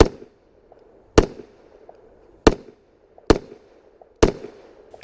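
Five sharp pistol shots crack out at irregular intervals, roughly a second apart, at an IPDA shooting match on an outdoor range at a wildlife club, each report loud and close with a brief decaying echo and quiet between.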